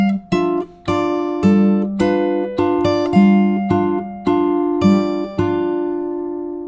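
Fingerstyle acoustic guitar with a capo, plucked notes ringing over a steady bass pattern, bright and close, a short unaccompanied phrase.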